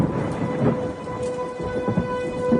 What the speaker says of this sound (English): Oh god, the lightning and the air raid sirens and everything.